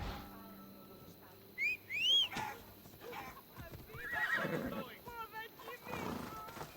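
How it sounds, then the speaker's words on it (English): The demon horse in the video game Assassin's Creed whinnies with a high, rising squeal, followed by hoof clops and further neighs amid game sounds and a voice talking underneath. "I guess the demon horse is kinda cool."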